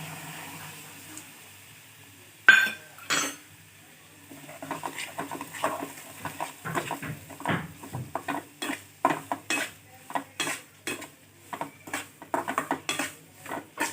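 Semolina roasts in ghee in a pan after dry fruits were fried in it, heard as quiet, then increasingly rapid rhythmic scraping and tapping of a spoon stirring against the metal pan, with a faint sizzle beneath.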